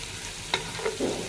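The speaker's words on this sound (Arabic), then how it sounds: "انا بقلي الثوم اهي." Garlic frying in a pan for an Egyptian liver and sausage dish, with a brief utensil stir and low sizzling crackle over roughly a second, close and fairly quiet.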